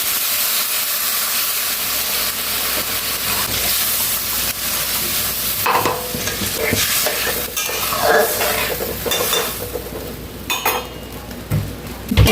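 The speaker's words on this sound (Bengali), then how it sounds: "এখন আমি এর মধ্যে দিয়ে দিলাম জল" Water poured into frying masala for a rui fish curry, a steady loud sizzle and hiss with spoon stirring and scraping against the pan, plus a few sharper clatters toward the end.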